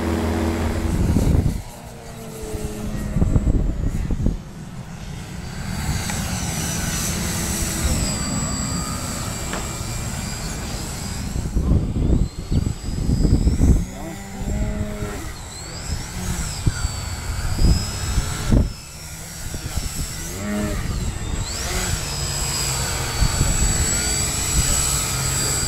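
A Michael Wargo Addiction X RC model airplane flies overhead, its electric motor droning and pitching up and down through quick rudder maneuvers, loud and steady with fluctuating whine.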